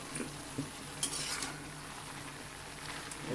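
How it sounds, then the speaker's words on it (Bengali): Mixed winter vegetables being stirred in a pan with water, faint soft scraping and light sizzling with a couple of small utensil knocks, quiet and close with no talking. "মাঝে মধ্যে এরকমভাবে উঠিয়ে বারবার জল করে নেড়ে দেব"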